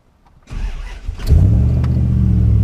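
A 2000 Dodge Dakota with a 4.7 engine, just fitted with a new camshaft position sensor, cranks briefly and then catches and settles into a steady, loud idle. No one speaks.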